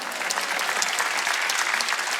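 Applause from a church congregation during a Wednesday sermon at Jesus-centered church, steady dense clapping filling the space without pause, loud and close, no voices over it.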